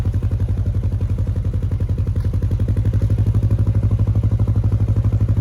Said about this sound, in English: You might have heard that sudden drop in revs.